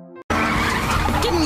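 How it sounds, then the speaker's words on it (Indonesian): A car tears away with its tires skidding and squealing, loud and close, a sustained roar and screech that cuts in suddenly after a brief quiet moment and runs continuously to the end. "Lalu mereka membawa pergi mobil tersebut."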